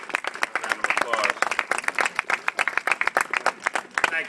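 An audience at a civic event with Mayor Nutter gives the organization and its leadership a big round of applause: dense, sustained clapping that stays loud throughout.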